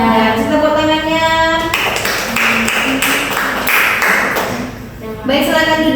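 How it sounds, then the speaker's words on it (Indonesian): Hands clap together in a classroom, a burst of steady clapping in the middle with children's voices chanting or calling before and after it. "Tepuk tangannya"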